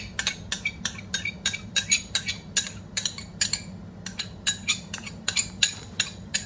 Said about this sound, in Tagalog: Haluin natin ng maayos.